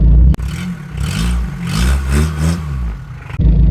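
A car engine revving as it accelerates, loud and close, the pitch rising and falling in waves over a few seconds between steadier idle-like stretches at either end.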